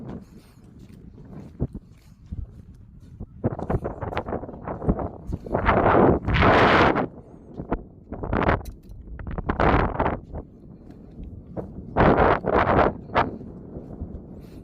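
Gusty wind rumbling across the microphone in uneven surges over a rice field, loud blasts alternating with quieter lulls, no voices present.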